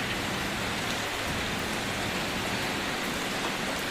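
Steady rain falls in a dense, even hiss that stays constant throughout, fairly loud and continuous with no voices.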